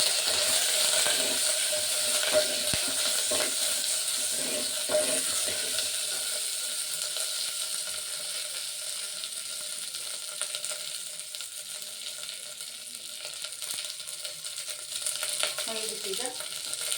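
Curry leaves fry in hot oil in a pan, giving a steady, close crackling sizzle throughout, with faint scraping and stirring clinks of a spoon.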